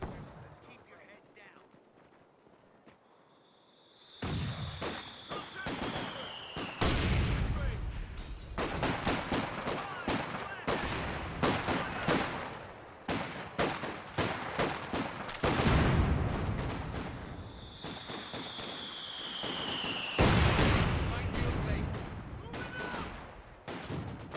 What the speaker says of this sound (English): So a bit of mortar barraging going on both sides.